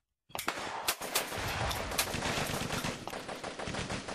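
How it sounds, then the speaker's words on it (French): Battle sounds from automatic weapons: dense, sustained bursts of rapid gunfire with sharp cracks and heavier booms mixed in, loud and continuous after a brief silence. "Les bruits de grenades, d'artillerie, d'armes automatiques se rapprochent."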